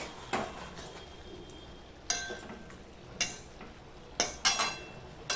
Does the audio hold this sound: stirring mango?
yes